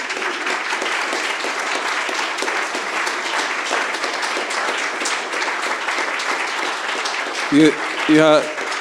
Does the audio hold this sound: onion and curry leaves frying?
no